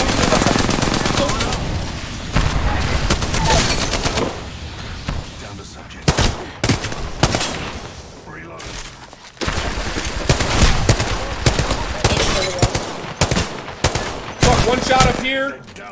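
Rapid automatic gunfire bursts from Apex Legends gameplay, loud and dense with repeated volleys and short pauses, mixed with in-game effects and occasional voice in the background.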